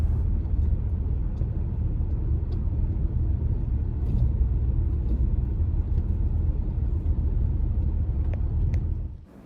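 A car driving along a forest track for about 5 kilometres toward a lake in northwest Russia. Steady, close, low rumbling engine and road noise runs unbroken, with a few faint knocks, then dies away quickly at the end.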